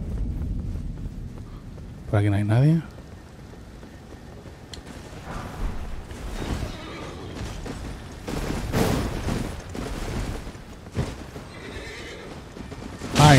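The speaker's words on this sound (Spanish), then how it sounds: "Se ha quedado el caballo." Horse in Elden Ring neighs with a loud whinny around two seconds in, with hoof clatter and game effects scattered through the rest, while players talk over it.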